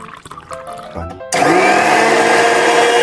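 A kitchen mixer grinder holding soap and hot water starts up suddenly after a moment of quieter clatter. It then runs loud and steady with a harsh, whirring roar until it cuts off at the very end.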